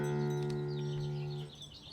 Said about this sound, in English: It's double drop D, which means your high string E and your low string E both get dropped down one note to the D.